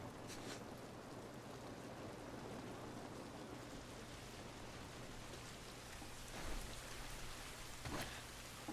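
Steady rain falls outdoors in The Last of Us Part I, a dense, even hiss of drops hitting surfaces with a couple of brief louder splashes, no voices.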